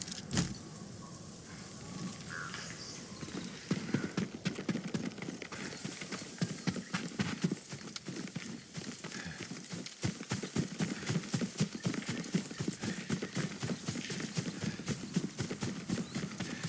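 Horse hooves clip-clop steadily in the video game Ghost of Tsushima, a close, rhythmic patter that grows denser and louder after the first few seconds, with faint jingling tack and no talk.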